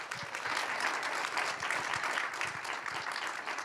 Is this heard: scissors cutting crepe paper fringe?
no